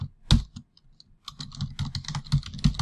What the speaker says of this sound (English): So if we type in export,